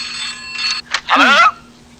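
A telephone rings in a scene from the Hindi comedy film Andaz Apna Apna, giving one short ring burst followed by a brief voice.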